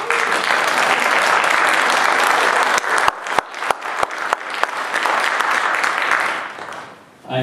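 An audience at the Shanley High School Sandpebbles and Quintessence holiday concert claps loudly and continuously, with a few sharper individual claps through the middle before the applause fades out.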